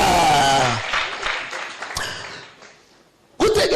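A church congregation breaks into applause during a sermon. The clapping rises and fades under a speaking voice, then a final burst of claps comes in near the end.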